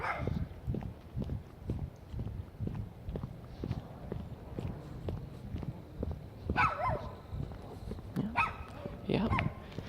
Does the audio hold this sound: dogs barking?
yes